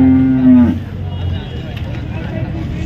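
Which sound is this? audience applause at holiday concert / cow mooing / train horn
cow mooing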